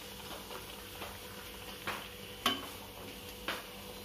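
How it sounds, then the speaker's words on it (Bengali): Luchi, puffed flatbread, fry in hot oil with a soft steady sizzle, broken by a few sharp clinks of a utensil against the pan. The sounds are fairly quiet and no one speaks. "লুচি ভাজছে"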